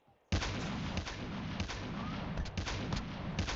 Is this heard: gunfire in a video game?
yes